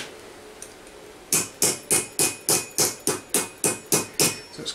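A hammer taps a decorative edge onto a piece of armour, with about eleven sharp, evenly spaced metallic strikes ringing out close by after a brief quiet start.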